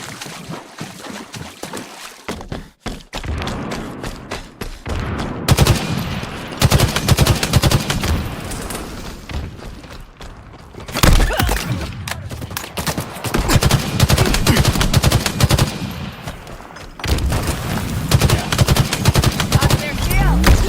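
Sustained gunfire from Halo Infinite Team Slayer multiplayer: dense bursts of automatic rifle fire and impacts, loud and close, with brief pauses between volleys and game voice callouts over the shooting.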